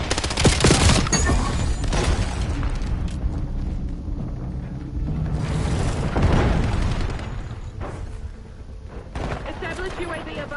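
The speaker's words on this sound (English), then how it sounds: "cluster grenade going up" A cluster grenade in the Black Ops 7 video game sets off a loud burst of explosions, with heavy booms followed by scattered blasts and gunfire in a dense, chaotic game mix while players talk over it.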